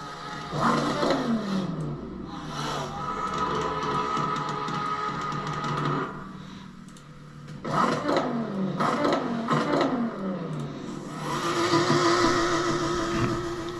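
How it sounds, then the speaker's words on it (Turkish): Ford Focus driven in the Assetto Corsa racing game, its engine revving up and down in repeated sweeping bursts with shifts and some tire squeal, loud and close, with no talk. "ilk defa Assetto Corsa'da Focus süreceğim ha"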